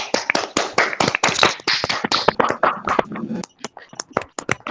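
Many hands clapping in quick, irregular bursts on an online video call, a lively round of applause that thins out toward the end into a few scattered claps.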